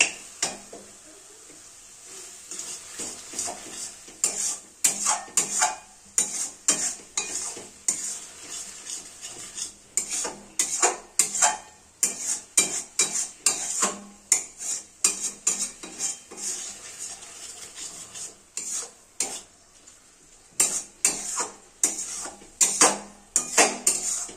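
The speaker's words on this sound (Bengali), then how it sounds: "মশলাটা খুব সুন্দরভাবে নাড়াচাড়া করতে থাকব" A spoon stirs spices with chopped tomato and salt in a pan, making a steady rhythm of close, loud metallic scrapes and clinks over a faint sizzle, with no talking.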